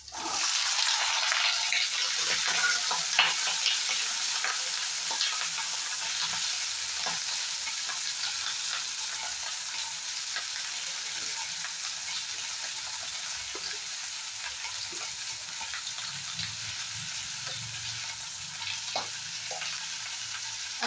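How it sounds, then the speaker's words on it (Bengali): Potatoes fry in a hot wok with little oil, giving a steady, bright sizzle that runs unbroken and fairly loud, with occasional faint clinks and stirring noises and no talking. "কড়াইটা প্রায় গরম হয়ে গেছে, এখন আমি আলুটা ভালো করে ফ্রাই করে নিব।"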